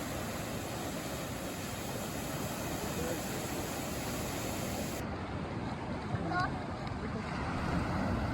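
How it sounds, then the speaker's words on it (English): Ocean surf rolling in along a Japanese village coast, swollen by distant typhoons, heard as a continuous broadband wash of breaking waves with wind across the microphone, steady and moderately distant. "There's been waves around most days recently because of those distant typhoons I mentioned earlier."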